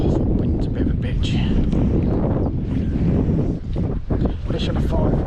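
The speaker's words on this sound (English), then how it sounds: "Oh, the wind's a bit of a bitch." Wind buffets the microphone beside a trout fishing lake, a loud, continuous roaring rush that fills the whole clip, with a person talking over it.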